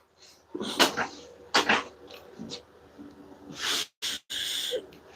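A dog whimpers up close in a few short bursts of whining and snuffling breaths, with brief gaps of near silence between them and no talking.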